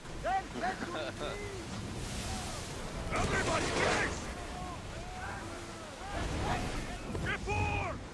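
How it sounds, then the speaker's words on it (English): Ocean waves surge and crash around a ship at sea in Assassin's Creed Odyssey, a steady broad wash under shouted commands and voices throughout, swelling louder in the middle and again near the end. "the waves are slowing me down"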